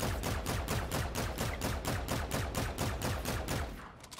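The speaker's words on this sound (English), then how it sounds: "And this is its rate of fire" A Volk assault rifle fires full auto in a video game, a fast, even stream of about fifteen sharp shots over roughly four seconds, loud and alone.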